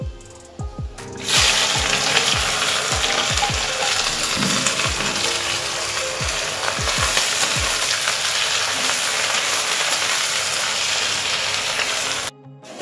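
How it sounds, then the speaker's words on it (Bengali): Onions fry in hot oil with whole spices in a wok, giving a continuous close-up sizzle broken by repeated sharp clinks and scrapes from a stirring utensil. "এবার তার মধ্যে পেঁয়াজ অ্যাড করছি।"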